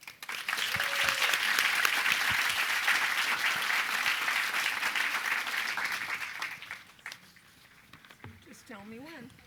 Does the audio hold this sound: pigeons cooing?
no